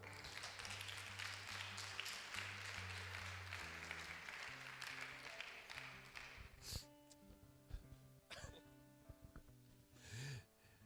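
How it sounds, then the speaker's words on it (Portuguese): A church congregation applauds together, a dense wash of many hands clapping that carries on steadily for several seconds, then thins into scattered claps with some voices mixed in. "vamos aplaudir ao Senhor?"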